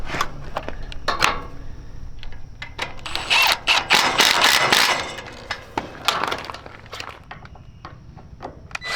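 Wrenches and metal parts clank and ratchet while a hay rake is bolted back together, a busy run of sharp clicks and knocks with a denser burst of clatter in the middle, close and fairly loud.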